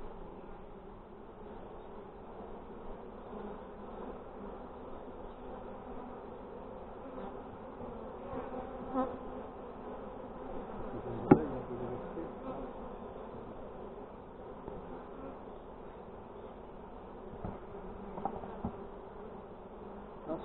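Honeybees buzz steadily around open Dadant hives during a colony split, a continuous mid-pitched drone with occasional louder passes and light handling knocks, with faint talk in the background.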